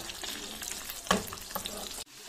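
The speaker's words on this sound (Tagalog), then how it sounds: "So, ipiprito na natin itong fish." Fish fries in hot oil with a steady, close sizzle and crackle, one sharper spatter burst partway through, then an abrupt drop in level near the end.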